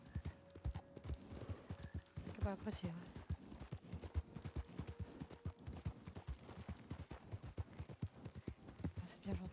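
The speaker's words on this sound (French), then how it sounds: "Oh, il y a un cheval" Horse hooves clip-clop in a western video game, a steady rhythmic trot of close taps running through the whole stretch beneath someone talking in French and scattered game effects.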